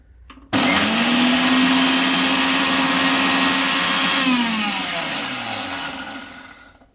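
Two tablespoons of sugar ground to powder in an electric blender, a loud steady motor whine starting abruptly and running for several seconds before winding down near the end.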